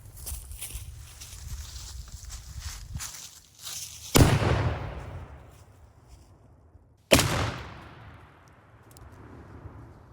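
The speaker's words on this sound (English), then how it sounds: "we're gonna touch our cannon off" Two loud cannon blasts firing grapeshot with an extra powder load, a few seconds apart, each a sharp boom with a long rumbling decay, over low outdoor background noise.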